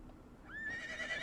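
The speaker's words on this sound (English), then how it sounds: "We have a horse coming through." A horse whinnies in a video game roleplay, a single rising, drawn-out call that starts about midway and carries to the end over a low background hum.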